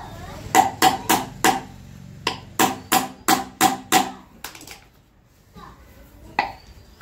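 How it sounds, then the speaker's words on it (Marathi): Sharp hammer blows drive a screw while a kids' tricycle with a parental push handle is assembled: two rhythmic runs of about four to six close, loud knocks, then a few scattered taps, with a voice speaking. "परत स्क्रू ठोकायला लागला"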